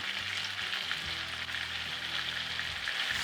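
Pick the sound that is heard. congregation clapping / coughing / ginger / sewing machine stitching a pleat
ginger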